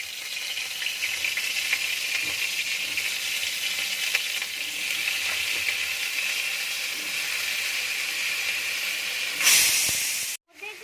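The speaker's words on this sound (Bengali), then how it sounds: "প্রথমেই কড়াই তেল গরম হয়ে গেছে, ওতে মাম্মি দিয়ে দিবে এবার সবজিগুলো" Mixed vegetables sizzle loudly in hot oil in a wok, a steady bright hiss lasting nearly the whole stretch, with a sharper burst near the end before it cuts off abruptly.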